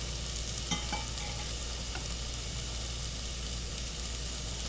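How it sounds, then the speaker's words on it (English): Onions frying in leftover bacon fat in a pan, a steady close hiss and crackle with a few faint utensil clicks near the start. "Whatever residual fat is in the pan is going to be plenty to cook the onions."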